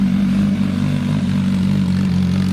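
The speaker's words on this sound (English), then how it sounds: "We got Burton rolling in on the Serie Oro MV Agusta, man" An MV Agusta Serie Oro motorcycle rolls in with a steady, loud, low engine drone that holds evenly throughout, with no talking.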